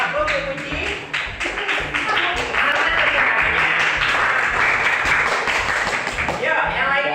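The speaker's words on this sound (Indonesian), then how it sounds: "Luar biasa, aplaus untuk Puji" A group claps for Puji at a school session on positive culture, steady sustained applause that swells and holds, with voices mixed in underneath.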